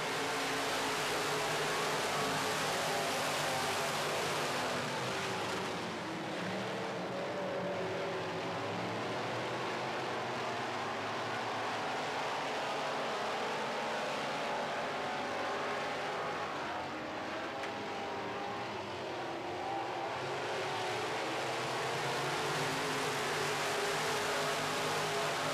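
Midwest modified race cars on a dirt oval, a constant loud roar of several engines circling together, the sound swelling and easing slightly as the pack moves around the track.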